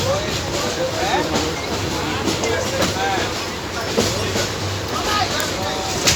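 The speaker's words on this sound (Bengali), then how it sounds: "ট্রেনটা চলে আসছে" A passenger train rumbles steadily along the tracks, heard from inside a carriage, with continuous rattling and clatter, while voices talk faintly in the background.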